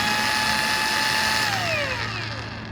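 Keelat KAG05S angle grinder running unloaded at its first speed setting, a loud steady motor whine with a continuous high-pitched tone that shifts slightly in pitch, heard alone and close.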